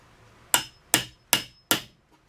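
Four evenly spaced, sharp hammer strikes on a chisel cutting into wood for a DIY plyometric box, each a crisp close knock with a short decay, with no one talking.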